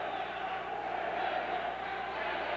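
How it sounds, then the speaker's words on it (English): Crowd at an Air Force amateur boxing regional bout, cheering and roaring steadily in a large hall, with a commentator's voice faintly under the noise. "Once again, the Air Force team gets the crowd into it."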